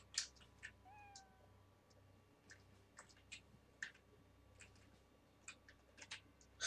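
A cat meows softly inside a video game world set in Arkadya, with a short rising call near the start over quiet ambience and scattered light clicks.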